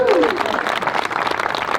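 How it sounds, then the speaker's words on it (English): Wedding guests clap for the bride's father after he gives his daughter away, a lively spread of hand claps close by, with a voice briefly over the start. "Big clap for Maurice."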